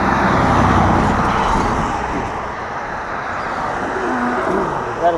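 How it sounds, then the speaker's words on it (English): A steady stream of cars and other traffic rolls past at a busy intersection, a loud continuous roadway roar heard close up, easing slightly midway then swelling again. "Got a stream of cars here."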